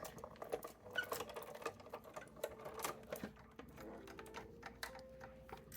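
A hand-cranked die-cutting machine feeds card stock through its rollers, a faint close-up run of small rhythmic clicks and creaks.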